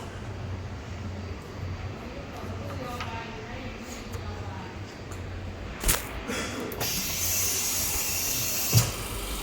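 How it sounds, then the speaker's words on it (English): An OCA lamination machine used for iPad screen repair runs its vacuum cycle, a steady mechanical hum and hiss with brief clicks and a louder hissing rush near the end. "Now we're going to put inside our lamination machine."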